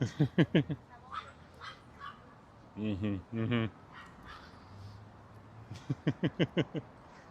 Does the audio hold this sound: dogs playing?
yes